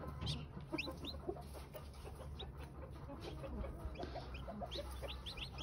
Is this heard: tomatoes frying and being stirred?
no